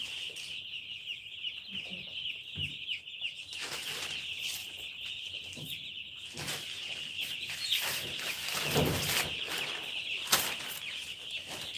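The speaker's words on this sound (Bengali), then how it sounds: "দেখা যাচ্ছে মুরগিগুলা" Chickens cluck softly in a rural village yard among chirping birds and a bright, constant insect-like buzz, with occasional wing flutters and faint distant voices, everything quiet and fairly far off.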